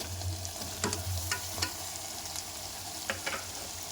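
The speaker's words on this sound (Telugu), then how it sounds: "దాన్ని అది మంచిగా ఆయిల్లో ఫ్రై అయ్యే వరకు ఫ్రై చేసుకోవాలి" Goat trotters, bones with a little skin, fry in hot oil for paya soup, giving a constant loud sizzle with occasional clicks of stirring throughout.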